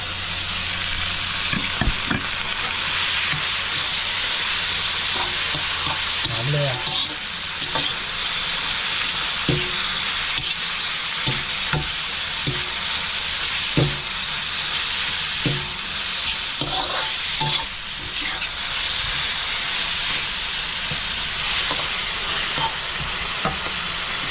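Minced pork and holy basil hiss steadily in a hot pan for Thai stir-fry, with a spatula knocking and scraping the metal at uneven intervals; close and continuous, no speech.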